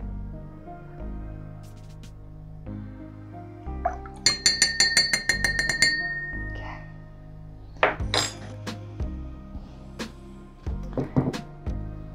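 Glasses clink and tap while mango juice is poured into them, a run of bright, rapid clinks in the middle and scattered knocks later, close up, with quiet talk underneath.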